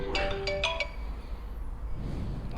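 A phone ringtone for an incoming call chimes in a few quick melodic notes, heard close by over steady background noise during a motorcycle ride in traffic with a Yamaha MT-07.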